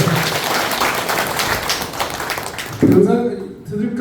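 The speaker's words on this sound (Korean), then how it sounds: "신정우 의원님께 큰 박수 한번 응원의 박수 주십시오." An audience at a Korean party members' inaugural gathering breaks into dense clapping, which fades after a few seconds as a voice takes over near the end.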